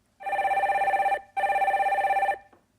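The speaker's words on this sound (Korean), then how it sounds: "첫 번째 전화 연결해 볼게요." Old-style telephone bell rings in two long bursts with a short gap, loud and close, as a caller is put through on a live phone-in show; no talk over it.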